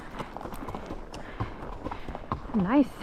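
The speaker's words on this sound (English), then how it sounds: "Nice canter." An Icelandic horse canters outdoors, its hoofbeats thudding in a quick, rolling rhythm, while a rider speaks briefly over them.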